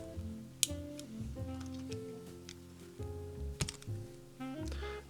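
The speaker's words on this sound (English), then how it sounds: "I'll just take these keycaps off," Keycaps are pulled one after another off a mechanical keyboard, giving a run of close, sharp plastic clicks and snaps, with faint handling noise in between.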